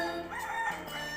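A rooster crows once, a drawn-out cock-a-doodle-doo call in a children's song setting, moderately loud with a faint musical backing underneath.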